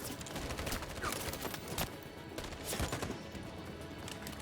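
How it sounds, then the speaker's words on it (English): Rapid bursts of gunfire in the video game Detroit: Become Human, sharp cracks and volleys scattered over a constant battlefield din, fairly faint overall. "And then we do covering fire to get ourselves there."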